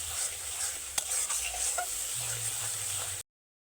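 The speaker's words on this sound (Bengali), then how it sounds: "টমেটো পেঁয়াজ একসঙ্গে বেশ অনেকক্ষণ ধরে কিন্তু নেড়ে নিয়েছি" A tomato, onion and spice paste is stirred and fried in a pan over moderate heat, giving a steady close sizzle with scraping stir strokes and a spoon tap, before the sound cuts off abruptly.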